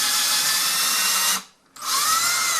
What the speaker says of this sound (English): So through the drywall, now we're into the stud.